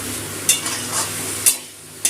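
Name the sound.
frying potatoes with poppy seed paste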